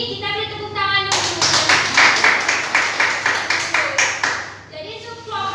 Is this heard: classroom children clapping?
yes